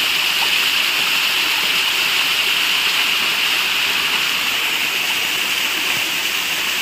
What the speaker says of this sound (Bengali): এটা হচ্ছে ছোট মহাকালের ছোট ঝর্ণা, ছোট জল থাকে এখানে।